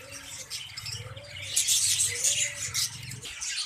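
A caged lovebird with its chick gives rapid, high chirps and twittering in clusters, close by, over a soft low cooing and background rustle.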